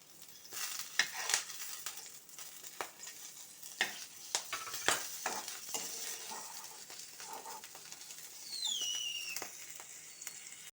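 Green chilies frying in oil in a pan, a soft sizzle broken by sharp clinks and scrapes of a utensil against the pan, fairly quiet with no talking.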